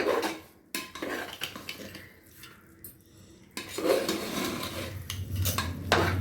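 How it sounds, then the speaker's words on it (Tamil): A utensil stirs cooked kodo millet pongal in a metal pot. Scraping and clinking come in bursts, close and fairly loud, with a quieter pause in the middle. "இதை நல்லா கலக்கி விட்டுக்கலாம்"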